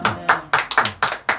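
Congregation at a church service clapping in rhythm, several sharp bursts of hand claps at roughly even intervals, close and fairly loud.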